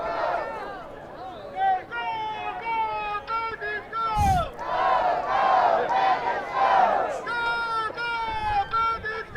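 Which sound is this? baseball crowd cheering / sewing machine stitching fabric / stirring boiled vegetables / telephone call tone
baseball crowd cheering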